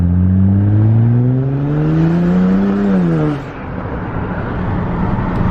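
BMW 535i with catless downpipes revs up loudly close by, its deep, throaty exhaust note climbing steadily in pitch, then dropping off sharply and settling into a lower rumble.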